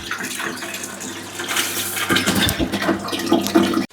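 Water gushes and splashes steadily into a large fish tank being rebuilt for dragon fish, a dense rushing pour that stays loud for a few seconds before cutting off abruptly.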